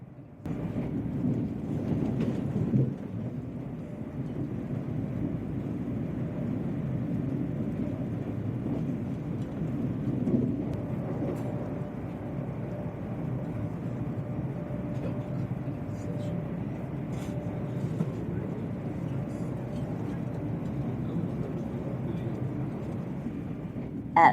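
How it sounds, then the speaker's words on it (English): A train races across the Royal Border Bridge over the River Tweed on its approach to Berwick, a steady, loud rumble that rolls on unbroken for the whole stretch. "The train races across the Royal Border Bridge over the River Tweed"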